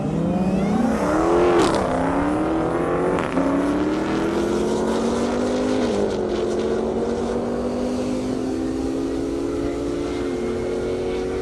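A Lamborghini Huracan of 1,300 horsepower and a Dodge Hellcat race down a half-mile airstrip, their engines screaming and climbing through rising gear-change sweeps, loud and sustained throughout.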